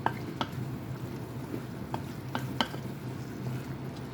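Squid adobo simmering in a pan while being stirred, a steady low bubbling sizzle broken by a few sharp scraping clicks of the spoon against the pan, close and fairly quiet.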